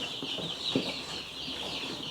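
Chickens clucking in a coop near a polytunnel, soft scattered clucks and a brief sharper call over a steady high background hiss.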